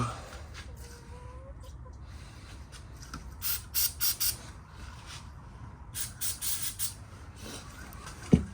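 Something sprayed onto a van with a dead battery, in short hissing bursts: three close together, then a second run of four, each sharp and fairly near over a quiet outdoor background.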